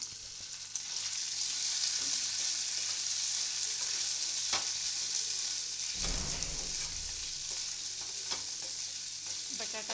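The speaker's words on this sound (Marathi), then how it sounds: "बटाटा चिरलेला टाकायचा आहे तो पण परतून घ्यायचा आहे तेलामध्ये छान" Chopped potato sautéing in oil in a kadai with roasted peanuts, a continuous close sizzle with occasional stirring scrapes and a brief low thump midway.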